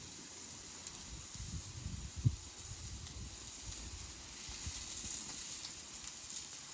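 Pork belly on a grill gives a steady, soft sizzle and hiss with low crackle. One brief tap stands out, and there is no talking.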